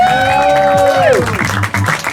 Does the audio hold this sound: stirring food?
no